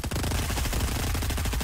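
Dense, loud automatic gunfire in Fortnite, a continuous rattling burst of overlapping rapid shots filling the short stretch without a pause.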